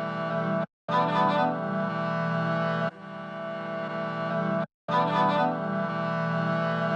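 Chopped sample phrases treated with a low-cut EQ and a lo-fi tape effect play as sustained, hazy harmonic chunks, broken by two brief silent gaps and an abrupt switch between chops, with no talking.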